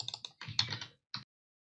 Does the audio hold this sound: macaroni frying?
no